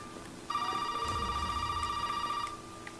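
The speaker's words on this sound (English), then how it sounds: "Fucking phone is ringing." A telephone rings in the video game Resident Evil 7, one steady electronic ring lasting about two seconds over a low, rumbling game ambience, fairly loud and close.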